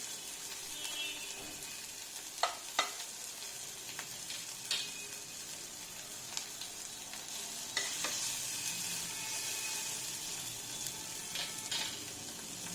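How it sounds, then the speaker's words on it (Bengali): Chopped tomato frying in a pan, a steady soft sizzle throughout with occasional sharp clinks and scrapes of stirring, close and fairly quiet. "টমেটোটা টমেটোর কুচিটা দিয়ে একটু জাস্ট টমেটোটা নরম হতে যেটুকু সময় লাগবে দু মিনিট"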